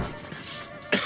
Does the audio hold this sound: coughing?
yes